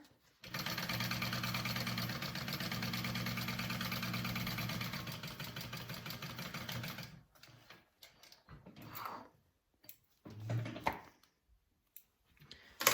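Sewing machine stitching a 3/8-inch seam along one side of a mini swell bag, a steady continuous motor whir running for several seconds before stopping, followed by quiet handling sounds.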